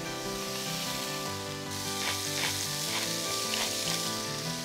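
Shredded Brussels sprouts stir-fry in a very hot pan with a steady, close sizzle and a few brief louder bursts as they are tossed, all under continuous background music.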